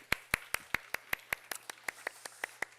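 Clapping during a Korean middle-school church worship service: sharp, evenly spaced claps in a quick, steady rhythm, about fourteen in under three seconds, clear and close in a quiet room.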